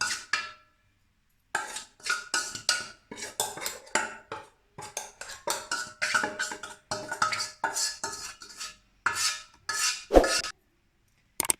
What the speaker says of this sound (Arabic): دابا غنضيف هنا اللوز من بعد ما حمرته في الفرن بالقشره ديالو